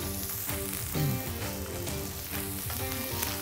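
Meat sizzling loudly on a hibachi griddle right after being flipped, a constant close crackle and hiss with faint scraping taps.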